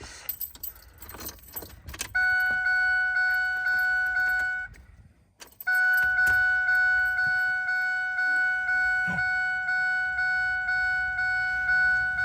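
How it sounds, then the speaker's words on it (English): A 2006 Ford F-250 warning chime sounds loud and close in a rapid, evenly spaced ding pattern. It rings for a few seconds, stops briefly, then resumes and keeps going steadily. "Is the chime normally that loud?"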